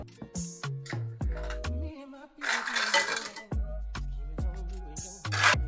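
A metal spatula shifts crabs around in a soup pot of broth, giving a series of close clinks and scrapes against the pot with irregular pauses and a brief bubbling stretch in the middle.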